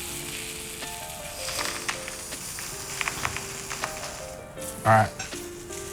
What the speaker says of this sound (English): straight away, you should hear that sizzle.